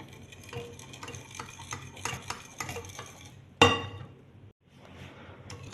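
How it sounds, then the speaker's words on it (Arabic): Crêpe batter whisked briskly in a bowl, a quick run of close, light tapping clicks, then one sharp clank of the whisk against the rim, a brief pause and softer stirring. "هاوليكم خلطوا مليح مليح باش ما يعودوش عندكم هذوك الكرات"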